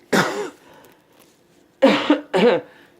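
A single harsh cough up close, followed after a pause by two more coughs in quick succession.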